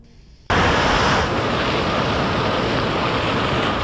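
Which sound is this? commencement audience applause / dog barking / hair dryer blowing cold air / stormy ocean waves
stormy ocean waves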